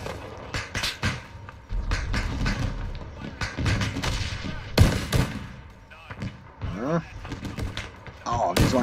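Arma 3 combat with repeated gunfire, booming thuds and distant artillery-like blasts, loud and dense throughout, with a person talking over the shooting.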